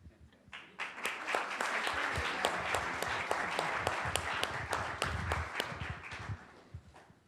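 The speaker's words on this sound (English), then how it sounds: "let's give them another round of applause" An audience at a keynote event applauds with dense, even clapping that starts abruptly, holds steady for several seconds and then thins out.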